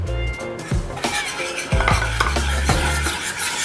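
A spoon stirring homemade mawa (reduced milk) in a pan, with repeated scraping strokes and clinks of metal against the pan over a soft sizzle, close and fairly loud.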